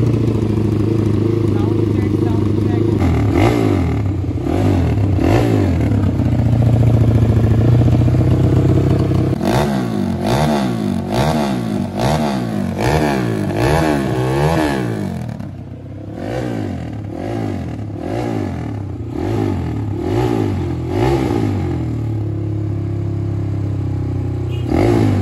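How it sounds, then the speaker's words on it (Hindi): A Bajaj Pulsar NS fitted with a Duke 250 radiator fires up and revs repeatedly, loud and close, the engine note climbing and falling in bursts with clattery mechanical noise and voices talking over it. "वहाँ पे स्टार्ट करके थोड़ा रेव करके आपको दिखाते हैं।"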